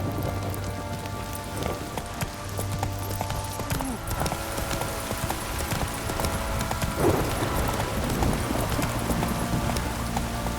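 Hooves of Roach, a horse in The Witcher 3, beat in a fast clip-clop rhythm over a steady patter like rain, with game music and ambience running underneath throughout.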